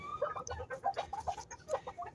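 Two broody hens clucking close up as they jostle over the same nest, soft overlapping clucks and brief squawky calls in an irregular, continuous stream with no talking.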